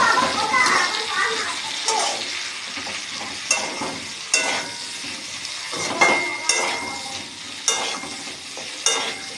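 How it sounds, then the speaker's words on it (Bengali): Chopped onions frying in a pan over low to medium gas flame, a steady sizzle with repeated stirring scrapes and utensil knocks against the pan, close by, with faint children's voices in the background. "বন্ধুরা, এবারে পেঁয়াজ কুচি দিয়ে দিলাম।"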